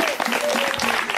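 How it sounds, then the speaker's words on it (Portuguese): Congregation clapping at an evangelical crusade church service in Bairro do Vermelho, Minas Gerais, a dense, close burst of applause filling the whole short moment with a faint voice tone underneath. "Uma salva de palmas, irmão."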